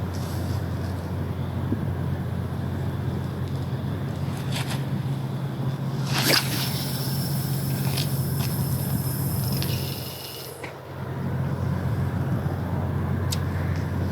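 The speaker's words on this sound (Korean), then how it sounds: "시원하게 캐스팅 한번 해보겠습니다" A fishing rod is cast from a boat on the East Sea of Korea, giving one sharp whoosh partway through with the line whirring out, over steady engine hum and wind; no one speaks.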